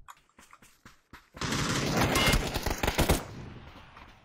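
Gunfire in a squad battle royale video game: a few light clicks, then a loud, rapid burst of automatic fire lasting nearly two seconds before fading out.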